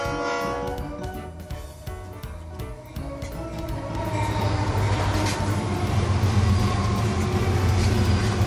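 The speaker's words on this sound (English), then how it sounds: "Maglev." A train hums and rumbles, starting with metallic tones, then swelling into a louder, steady rushing roar as it speeds by.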